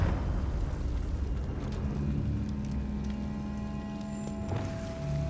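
A Confringo fire spell blast in Hogwarts Legacy, a rumbling burst of fire and whooshing energy with a sustained hum and a sharp crackle near the end, loud and without speech.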